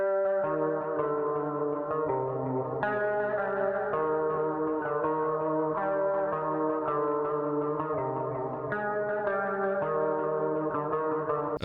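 A single electric guitar playing a repeating post-punk pattern an octave lower, panned center, with echo and a light effects sheen; steady, full and continuous, with no voices over it.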